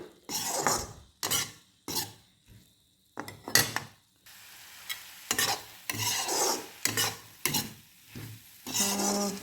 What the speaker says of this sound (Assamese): ৰঙালাওৰ পাতখিনি অকণমান কেঁচা কেঁচা ভাপটো যোৱালৈকে মই ভাজি লৈছোঁ।